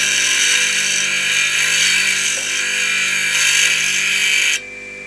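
Small cheese head screw having its corners ground off for a mitre plane, a steady high whining grind from a power tool running continuously before cutting off abruptly near the end.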